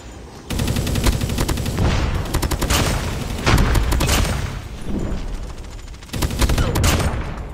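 Rapid bursts of Kilo 141 Mythic assault rifle fire in Call of Duty Mobile, loud and close, with sustained automatic volleys broken by brief pauses and booming impacts.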